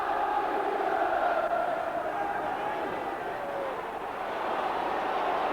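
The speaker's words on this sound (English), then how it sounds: "And the crowd respond." A football stadium crowd roars in response to a headed goal by Tottenham: a dense, sustained wall of cheering that holds steady throughout, loud and enveloping.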